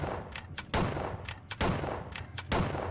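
Gunshots fired at enemies in the video game Outlaws: several sharp, loud reports in a steady rhythm roughly a second apart, with smaller cracks in between and no talking.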